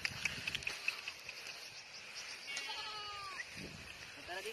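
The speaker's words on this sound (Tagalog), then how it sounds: "Ito po'y kambing, yan laki." A large male goat on a rural farm bleats in a few wavering calls over a background of faint outdoor noise, while people talk nearby.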